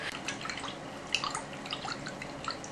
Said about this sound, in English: all you do is you just kind of swirl your brush in the